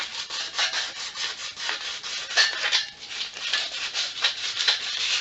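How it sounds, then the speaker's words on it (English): A bike rim being hand-sanded with a small piece of 120 grit sandpaper, making a close, steady raspy rubbing with rhythmic back-and-forth strokes and no talk. "I take a little piece of 120 and I sand across"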